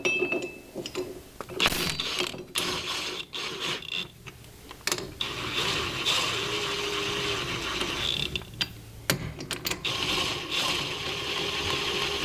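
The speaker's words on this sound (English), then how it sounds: "all you do to put in one of these spacers is put it on the original holes and bolt it up" Golf cart wheel spacers being bolted onto the original hub holes, with metallic ratcheting, clinking hardware and tool clicks in irregular bursts, close and fairly loud, with brief pauses between.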